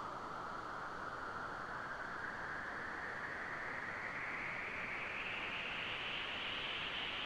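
Synthesizer noise with a filter slowly sweeping upward in imitation of a jet engine revving, a steady rushing hiss that rises gradually in pitch for several seconds and plays alone at a moderate level.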